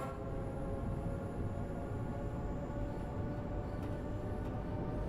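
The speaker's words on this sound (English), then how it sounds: "Should we watch our train pull away?" A train pulls away in the Train Sim World 4 video game, heard as a steady, fairly quiet rumble of rolling stock with faint higher tones, continuous throughout with no talk.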